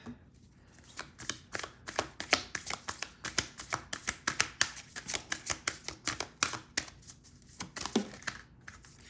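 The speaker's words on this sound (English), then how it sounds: "Let's do the Moonology cards and see what that looks like." A Moonology oracle card deck being shuffled by hand, producing a steady run of close, crisp riffling and slapping bursts in quick rhythm, with no talking.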